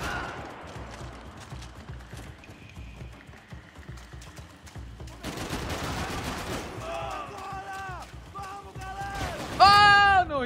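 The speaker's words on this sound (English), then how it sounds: "Who's shooting me?" Bursts of video game gunfire from Max Payne 3 crackle in rapid fusillades under a player's voice, then turn into louder metallic shots and ringing impacts toward the end.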